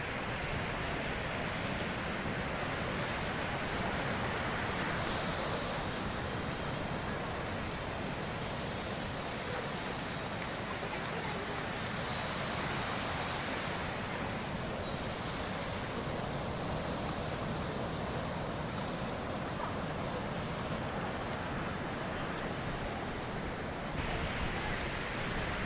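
Sea waves washing onto the beach at Puri, Odisha, a steady, dense roar of surf that fills the whole stretch without letup, loud and continuous with no clear voices.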